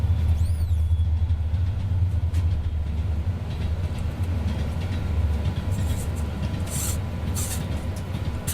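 A Norfolk Southern train passing outside on newly welded, uneven track, a steady low rumble with a sustained roar and some higher rattling bursts, heard from indoors at a distance.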